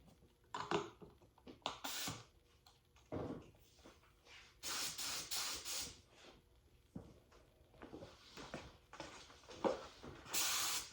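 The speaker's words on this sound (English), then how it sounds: "I'll spray just my light mist coat." Repeated hissing bursts of a spray gun misting a light coat of polyaspartic coating, short passes separated by pauses, close by with some handling noise.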